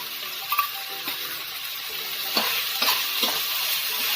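Chili powder, salt and red chili sauce are mixed into sizzling food in a pan, a steady hiss broken by several scraping stir strokes, no speech.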